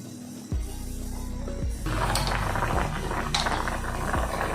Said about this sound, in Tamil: பாருங்கள், நல்லா கொதி வந்துருச்சு. சூப்பராக கொதியாச்சு.